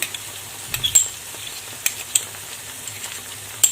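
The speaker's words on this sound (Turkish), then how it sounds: "Şimdi kıymamızı salçamızla tekrar kavuruyorum" Minced meat frying with pepper paste and tomato paste while being stirred for içli köfte filling, a soft close sizzle broken by a few sharp spoon scrapes and clinks, no talk.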